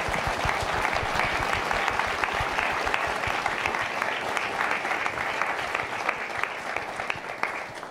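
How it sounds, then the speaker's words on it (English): A conference audience at A MAZE. Berlin 2024 claps steadily for several seconds after a talk, a dense, even patter of many hands that slowly thins toward the end. "And this is where you clap."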